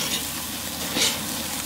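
Thick burgers over a grill flame give off a loud, close, continuous sizzle with crackling pops, holding steady for the whole short stretch.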